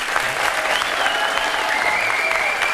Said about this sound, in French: On peut applaudir Yogi Koudou